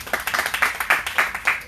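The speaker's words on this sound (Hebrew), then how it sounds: "חזק, כפיים רבותיי." A handful of people clap in a quick, steady rhythm, close by and moderately loud, with no other voices.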